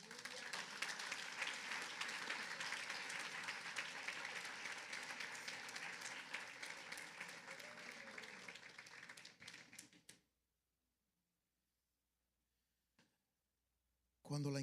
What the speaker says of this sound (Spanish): Dale otro aplauso a Él